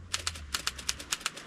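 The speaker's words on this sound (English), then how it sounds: "the sound of these old typewriters is just music to your ears." Old vintage typewriter keys striking in a quick, fairly even rhythm, about a dozen crisp clacks in a second and a half, close and alone with no talking.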